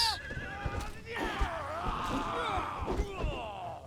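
A horse neighs and whinnies in Conan Exiles, a long wavering call rising over game ambience and hoof clatter, with someone talking over it.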